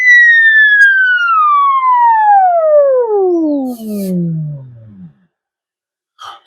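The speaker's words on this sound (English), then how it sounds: "the moment that I turn the BFO on, you'll hear this high-pitched sound" A tube radio's BFO gives a loud, steady beat tone that glides smoothly down in pitch over about five seconds and fades out as the tuning is turned, followed by a short faint noise.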